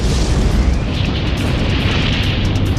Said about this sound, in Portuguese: Haverá uma enorme explosão.